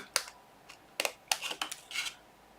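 Scissors cut along a score line in paper for a small candy box, giving a few close, crisp snips in quick succession with short pauses between, no voices.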